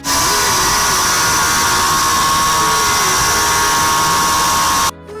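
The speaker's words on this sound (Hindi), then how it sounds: "अभी हम लोग इसको ग्राइंडर से कटिंग करने वाले" An electric grinder cuts into a switch board, a loud steady high-pitched whine held for about five seconds before it stops abruptly and leaves faint background noise.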